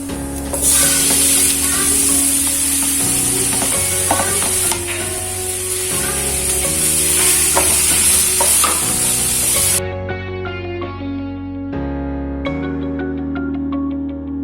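Ripe plantain and coconut sauté in a pan for banana kinnathappam, a loud continuous sizzle under bright background music, with the music carrying on alone after the frying stops.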